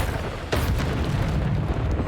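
The Bombarda explosion spell in the video game Hogwarts Legacy, a loud, booming blast with a sharp burst followed by a rumbling roar, heard alone without speech.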